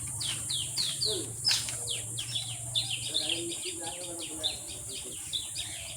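Birds in a pigeon loft, busy chirps and calls layered over one another with a low hum underneath, and a voice faintly present at moments.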